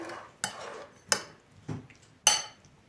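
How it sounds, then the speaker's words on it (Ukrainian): A spoon scrapes and clinks against a bowl in four distinct strokes while stirring grated beetroot with lemon juice, close and fairly loud, with short pauses between. "Перемішую."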